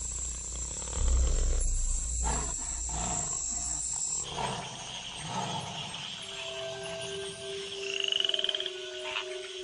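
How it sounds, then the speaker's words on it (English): A chorus of tree frogs calls steadily outdoors, with overlapping croaks and trills that swell and fade, no voices present. "In the wake of the rains, the tree frogs gather for bouts of communal coupling"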